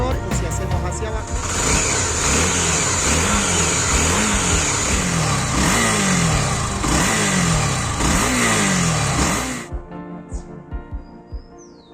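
A Honda Tornado motorcycle engine revs loudly in repeated rising and falling surges under a steady roar, then cuts off abruptly near the end, leaving quieter sounds and faint chirps.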